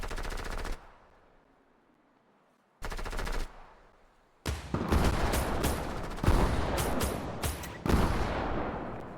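Fortnite gunfire: a short burst of automatic fire, a pause, another brief burst, then sustained rapid machine-gun rattling with overlapping shots, fairly close and moderately loud, no speech.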